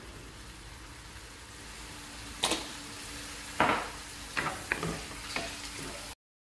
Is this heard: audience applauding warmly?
no